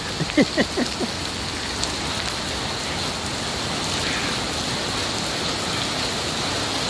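Rain falls steadily on a beach road in Pattaya, a dense, even hiss of drops on pavement, with a few brief louder knocks near the start before settling into continuous downpour.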